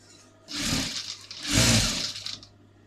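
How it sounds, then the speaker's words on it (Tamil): Sewing machine stitching fabric for a newborn baby's panties, with two bursts of fast whirring separated by short pauses, close and loud with no talk. "நம்ம ஃபேப்ரிக்கை டேர்ன் பண்ணுறதுக்காக அப்படி விட்டு தைக்க போகிறோம்."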